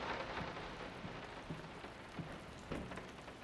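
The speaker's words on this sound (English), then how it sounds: "The sound of rain makes me want to sleep." Rain falls steadily in the horror video game Layers of Fear, a soft, even hiss of drops with faint distant rumbles, quiet and with no voices.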